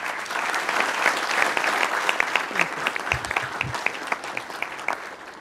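Audience applause welcoming Jelena McWilliams, chairman of the Federal Deposit Insurance Corp., at a conference: steady, sustained clapping from a sizable crowd, fairly close and even in level, fading slightly toward the end.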